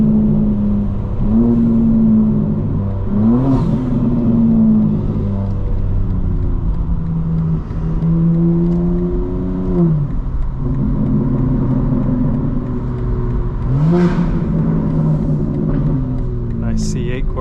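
A 2025 BMW M4 Competition xDrive pulls through city traffic, its engine note climbing through several upshifts in a loud, close, continuous drone with gear-change dips.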